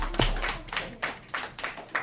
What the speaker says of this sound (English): So we should give him a round of applause.